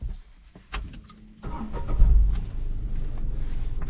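A Tata Altroz XE hatchback starting up, with a few clicks and a short crank before the engine catches and settles into a steady low idle hum inside the cabin.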